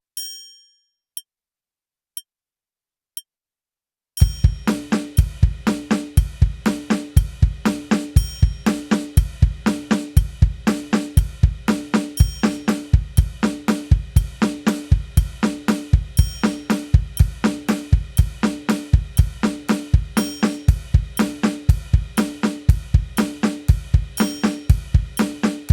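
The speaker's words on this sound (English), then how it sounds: "have doubles between the kick and snare as 16th notes underneath 8th notes on the ride cymbal" Drum kit coordination exercise played at a steady tempo: kick and snare doubles in sixteenth notes under eighth-note ride cymbal strikes. A few sparse hits open it, then the dense groove repeats evenly, close and loud, with no talking.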